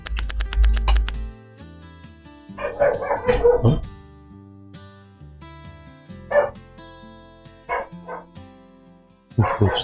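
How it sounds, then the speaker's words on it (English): A dog barking in the IT Specialist Simulator video game, several bursts of barks and yips spread across the clip with short gaps between them, over a steady tonal background and one brief spoken exclamation. "Woof woof, says doggy."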